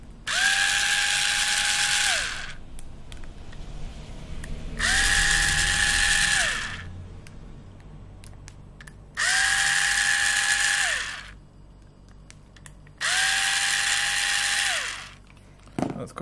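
A power screwdriver removes the four cover bolts of a COBBLA CBF-40 fishing reel. Four separate loud, high-pitched whirring bursts of about two seconds each are heard, each winding down in pitch, with quiet handling clicks between them.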